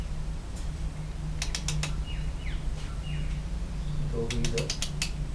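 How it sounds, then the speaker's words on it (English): Ratchet wrench tightening the chain adjuster on a Kawasaki Ninja 300 motorcycle, giving two quick bursts of sharp clicking, one near the middle and one near the end, over a steady low hum. "You only want to tighten until it clicks"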